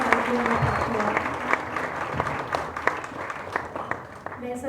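Loud applause fills an Ayurveda convention hall as guests are welcomed to the stage at a ceremony honouring the AYUSH minister; sustained clapping with sharp individual claps, while voices talk beneath it.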